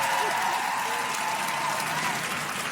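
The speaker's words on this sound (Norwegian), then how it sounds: "Jeg vil vi skal gi en liten applaus for kordamene og gitarmannen." A concert audience at a Christmas show gives steady applause for the backing singers and guitarist, with a voice audible over the clapping throughout.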